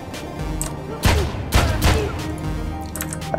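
Gunfire in the tactical action game John Wick Hex: a few heavy, booming shots spaced about half a second apart over a low ambient hum, loud and close.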